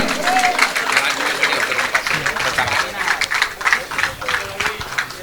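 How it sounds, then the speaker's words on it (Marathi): Crowd applause for a kabaddi player at a village match, scattered rhythmic clapping from an audience mixed with a loud announcer's voice talking over it. "जोरदार टाळ्या होऊन जातो प्रतीक गावण साठी"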